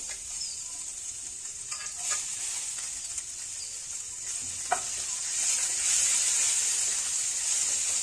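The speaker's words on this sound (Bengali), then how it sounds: "কাঁচা লঙ্কাটা দিয়ে ভালো করে ভেজে নেব।" Ginger and green chilli fry in hot oil after cumin seeds, giving a steady close sizzle with occasional stirring scrapes and a brief louder spatter near the middle.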